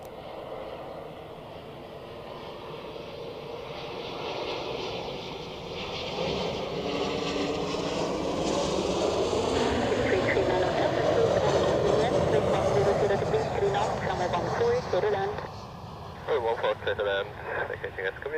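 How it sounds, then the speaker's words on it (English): An Etihad Boeing 787 Dreamliner climbing out of Zurich Airport builds from a distant rumble to a loud, steady jet roar, with a person talking over it in the last few seconds. "Etihad Dreamliner in the background"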